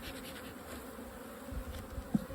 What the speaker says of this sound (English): I shook the bees off on top of the queen, so they want to go